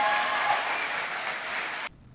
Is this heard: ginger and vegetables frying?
no